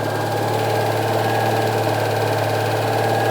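A 1970s or 1960s classic car barn find idles steadily with its fuel pump running, a continuous close engine drone with a low hum and faint ticking, heard alone without talk.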